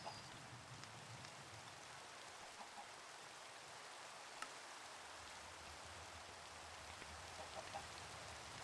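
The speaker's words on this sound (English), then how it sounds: "I wish it would stop raining." Rain falling in a Minecraft modpack game, a faint continuous hiss of steady rainfall with occasional soft drop ticks, heard alone.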